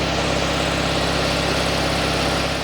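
A 1968 VW Bus engine idles steadily on choke, a continuous loud, even rumble with a fine vibrating texture and no talk over it.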